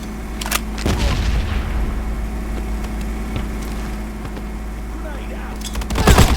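A grenade goes off in the video game Modern Ops on a construction site map, a loud deep boom with a long rumbling tail, followed by another burst near the end.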